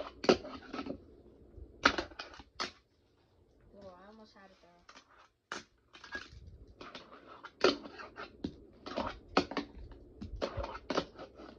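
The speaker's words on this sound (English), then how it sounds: "Here we go, kickflip landed." A Tech Deck plastic fingerboard without grip tape clacks and snaps in sharp, scattered bursts of tapping and flicking, close and crisp, with a brief voice in a pause.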